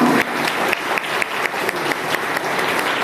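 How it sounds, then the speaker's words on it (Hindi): An audience at a seminar in Balrampur gives hearty applause, dense clapping with a few sharper claps standing out in a quick, steady rhythm. "एक बार जोरदार तालियों के साथ"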